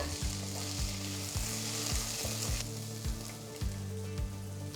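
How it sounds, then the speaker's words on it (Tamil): Ginger-garlic paste with green chillies sizzles and fries steadily in a pan, a rhythmic low clatter repeating underneath as it cooks. "பச்சை மிளகாய் 2 டீஸ்பூன் இஞ்சி பூண்டு விழுது சேர்த்து வதக்கிக்கோங்க"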